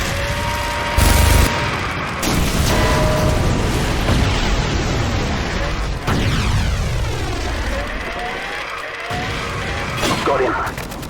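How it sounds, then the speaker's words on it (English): Game gunfire from a minigun in Call of Duty 4: Modern Warfare, with loud bursts and booming impacts in a battle scene. Whooshing and a sweeping whine follow, and voices speak in places. "Firing burst."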